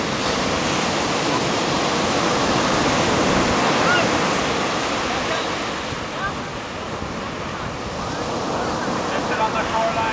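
Ocean waves break on a Hawaii beach shoreline with a steady, loud wash of surf and rushing water that swells and eases slightly over the stretch, carried alone with some wind buffeting.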